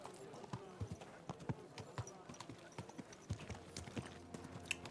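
Horse hooves clip-clop in steady rhythm through Kingdom Come: Deliverance II, close and moderately loud, with someone talking over the hoofbeats.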